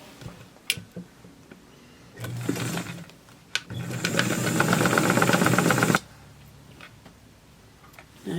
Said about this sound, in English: We're just going to stitch right along this 1/4 inch line.